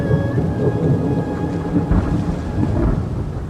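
Deep, rolling thunder rumbles continuously with rain hissing underneath, a loud swell building around the middle and again near the end; no voices.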